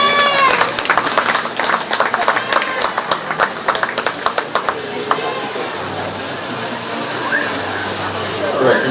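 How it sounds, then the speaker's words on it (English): An audience applauds at a 4H/FFA goat show at the 2025 Shelby County Fair, with dense clapping for several seconds that thins out into a steady background of hall noise. "Let's give them a big round of applause."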